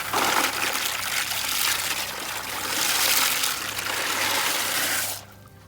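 Water trickles out through stone at the base of a wicking garden bed for a herb pot, a steady close rush of splashing and gurgling that cuts off near the end.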